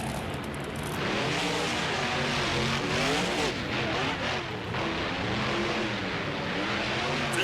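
Monster trucks racing side by side on a tight indoor track in Louisville, engines roaring and revving loudly and continuously, passing over sets of cars, with a faint voice under the noise.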